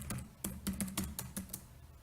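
Someone types on a computer keyboard, a short burst of about a dozen quiet, distinct key clicks in an uneven rhythm, close and alone.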